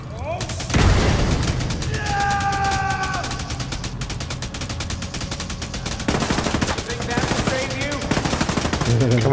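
Enemies fire on the player in The Division 2, sustained loud automatic gunfire with heavier booming shots mixed in, close and continuous throughout, with brief in-game alert tones partway through.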